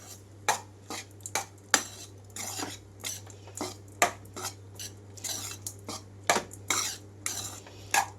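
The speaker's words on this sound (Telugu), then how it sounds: "మొత్తం కలిపేసుకున్నాను" A spoon scrapes and clinks against a pan while stirring ajwain rice, in a quick, uneven rhythm of about a dozen strokes, close up with no talking.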